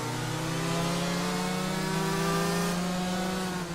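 A two-stroke go-kart engine in a racing video game drones steadily, its pitch rising slightly as it accelerates, with no commentary over it.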